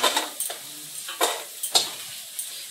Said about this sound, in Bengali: এবারে মাছের তরকারিটা চাপাবো।